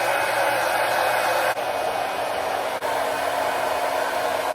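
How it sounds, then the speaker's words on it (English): A hair dryer blows steadily and loudly, a constant whooshing roar that briefly dips twice before running on. "I also used the help of a hair dryer"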